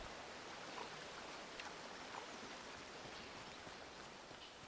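River water flowing steadily in the Among Trees forest, a faint, even rushing hiss with a soft babbling texture and no other sounds.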